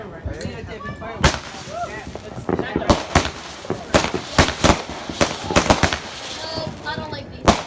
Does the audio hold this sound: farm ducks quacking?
no